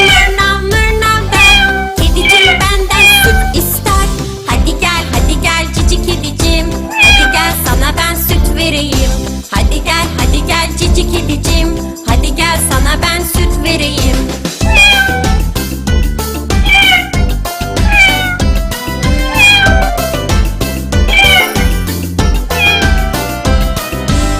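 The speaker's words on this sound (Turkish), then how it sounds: "Kedicim mırlav mırlav der" Cat meows ring out repeatedly within a bright children's farm song, with loud, continuous music carrying through the whole stretch.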